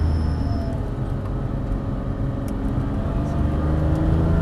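A car accelerates out of a corner on a race circuit, heard from inside as a loud, sustained engine roar and rumble with no talk.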